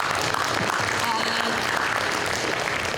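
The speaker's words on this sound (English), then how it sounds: "Thank you for the claps." A startup pitch event audience claps in steady, dense applause that fills the room without a break, with some voices murmuring underneath.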